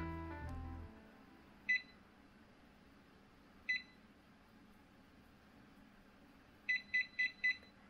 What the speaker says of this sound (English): And now I'm gonna wait for the beep.